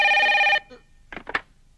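A telephone rings in a loud, bright burst for about half a second and then cuts off, followed by a few faint clicks and brief handling sounds.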